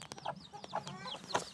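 A hen and her chicks in a garden coop give soft clucks and high peeps, several short calls in quick succession, fairly faint and close.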